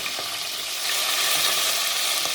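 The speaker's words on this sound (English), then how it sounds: "You throw the onions in, let it brown a little bit." Onions frying in a pan for German sauerbraten give a steady, close, bright sizzle that swells slightly louder partway through, with no talking.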